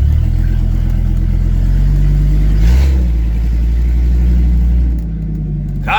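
A 2000 Dodge Ram 2500 4x4 pickup's V10 engine rumbles loud and close, revving up with a deep roar and then settling back to a heavy idle.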